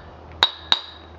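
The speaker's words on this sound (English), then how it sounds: "I just recommend just using a hammer and" A hammer strikes the outer race of a front wheel bearing on a Kawasaki Bayou 220 ATV, two sharp metallic taps with a ringing tone, spaced about a third of a second apart, over a quiet background.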